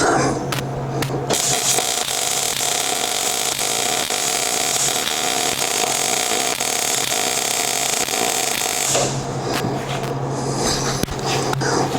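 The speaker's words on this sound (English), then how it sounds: "I'm going to put a little bit of a weld at the end" Welding at the end of a gantry crane beam gives a steady, loud, close crackling hiss that runs unbroken for about eight seconds and then stops, with a low electrical hum underneath and a few clanks at the start and finish.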